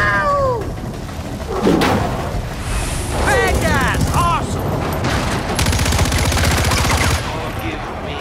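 Gunfire from a vehicle in the video game Far Cry 4, with bursts of rapid shots and booms under a steady engine drone, joined by voices and squeaky cries throughout.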